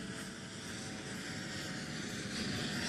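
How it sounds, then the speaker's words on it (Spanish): A helicopter arriving in Rocha, carrying President Luis Lacalle Pou, gives a broad, steady rotor and engine roar that swells slightly toward the end, with no voices. "en este momento arribando el helicóptero que trae justamente a Luis Alberto, a Luis Lacalle"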